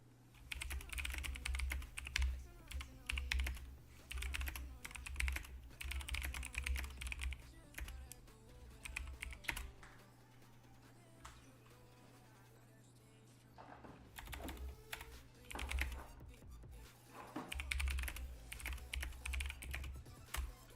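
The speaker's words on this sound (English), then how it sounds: "Sorry guys, I can't talk and type at the same time." Rapid clicking of a computer keyboard being typed on, close and steady in bursts with a short pause near the middle, during a Star Trek Fleet Command gaming session; a constant low hum sits underneath.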